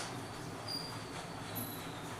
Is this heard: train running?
yes